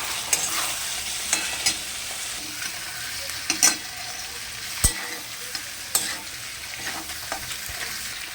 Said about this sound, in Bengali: এর মধ্যে সমস্ত মশলাটা দিয়ে দিলাম, জিরের গুঁড়ো, হলুদ গুঁড়ো, ধনের গুঁড়ো,